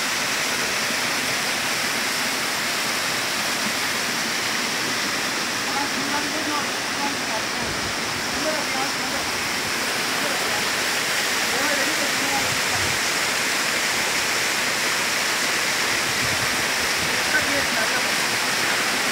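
A waterfall near Musa Battangy in Muzaffarabad, Azad Kashmir, roaring as a loud, unbroken rush of falling water that fills the whole span, heard close up and alone.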